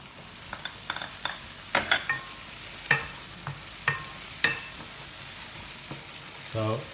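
Sweet corn kernels frying in a pan toward caramelizing, with scattered sharp crackles and pops over a low sizzle, plus a louder bubbling burst near the end; no one speaks.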